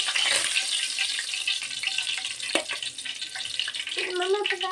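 Curry leaves crackle and sizzle in hot oil for a homemade chicken kebab garnish, a loud, dense spitting hiss with sharp pops throughout and a brief burst near the end.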